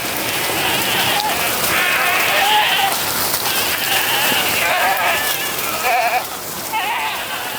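A herd of about 120 goats bleats repeatedly outdoors across Texas terrain, overlapping wavering cries over a steady rushing background.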